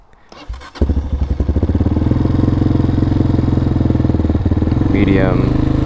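A 2003 Honda CRF230F dirt bike engine fires up with the choke on high and runs loud and close, its rough throbbing pulse held in a steady revving drone to the end, pitch rising briefly near the finish.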